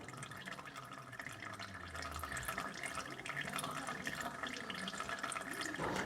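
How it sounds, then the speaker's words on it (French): Engine coolant drains from a car engine in a steady, continuous pour of liquid, close and fairly quiet, with faint drips and small knocks scattered through it. "on va vidanger le liquide de refroidissement"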